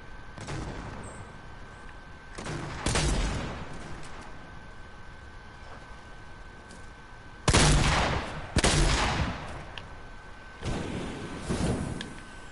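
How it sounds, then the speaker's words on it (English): Video game gunfire in bursts: rapid automatic volleys and single loud shots, some close and sharp, others quieter, separated by brief lulls of low background hum. "They're shooting me."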